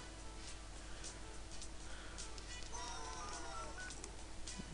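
Telephone dialing tones in the Neighbours from Hell video game: a run of short beeping tones over a steady game background, moderately faint and with no talk.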